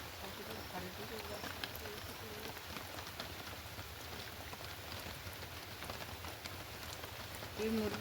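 Steady rain falling in a village during a spell of heavy wet weather, a faint continuous patter and hiss with occasional soft drops, alone and fairly distant.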